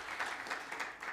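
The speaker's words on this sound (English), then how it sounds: "A big applause." Audience applause at a gastronomy food gift presentation event, a brief wash of clapping, moderately faint and continuous, heard alone.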